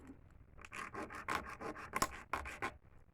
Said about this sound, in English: just make sure you're filing at an angle